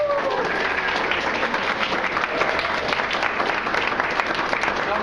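An audience at a live poetry slam gives steady, dense applause for the winner. The clapping is sustained and even throughout, with a host's voice faintly audible beneath it.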